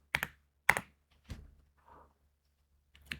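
A few short bursts of keystrokes on a computer keyboard, typed in scattered clusters with pauses between them, close and fairly quiet with no talking.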